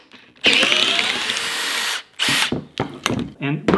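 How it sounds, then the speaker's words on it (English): A cordless drill bores into a log to split it for kindling: one sustained loud whir lasting about a second and a half, then several short, close bursts as the trigger is pulsed. "You can just drill it in, and it pops it open just like you would normally using an axe."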